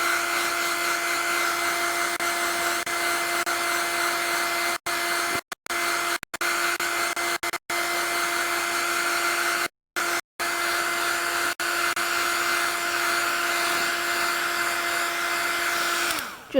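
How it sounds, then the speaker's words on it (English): A handheld hair dryer blows steadily on a wet watercolour painting layer, a loud close continuous whine with a few brief gaps as it is switched off and back on. "So hairdryer."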